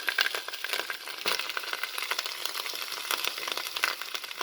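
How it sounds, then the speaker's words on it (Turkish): Minced meat and tomato paste fry in a pan as washed leeks are added, giving a steady close crackling sizzle with scattered sharp pops and no talk. "Şimdi yıkamış olduğum pırasaları kıymamın içine ilave ediyorum."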